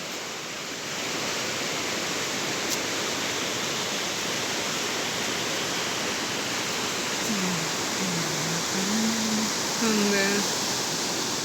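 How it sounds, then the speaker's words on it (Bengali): River swollen after a night of heavy rain, its water rushing as a steady broadband roar that fills the whole clip, with a voice briefly heard near the end. "দেখছেন বৃষ্টি হইলে আমরা এই নদীতে অনেক পানি আসে।"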